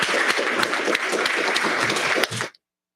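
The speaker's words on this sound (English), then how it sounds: "Give our amazing panelists a round of applause." An audience applauds a panel at a civic engagement event, dense steady clapping that cuts off abruptly after a couple of seconds.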